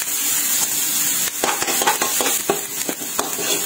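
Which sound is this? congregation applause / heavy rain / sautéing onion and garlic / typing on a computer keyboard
sautéing onion and garlic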